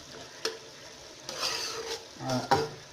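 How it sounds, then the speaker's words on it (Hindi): Minced meat (keema) for a keema-and-peas dish frying in ghee while being stirred in a pan, with soft sizzling and a few sharp scrapes and clinks of the spoon against the pot, close up with no talking. "अब ये घी छोड़ रहा है। अब मैं इसको भूनती जाऊंगी।"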